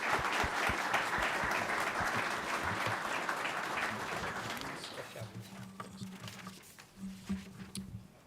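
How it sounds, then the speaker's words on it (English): Audience applause at an engineering technology senior project presentation, dense clapping that gradually thins and fades, with a few lingering claps and voices talking as it dies away. "Give another round of applause."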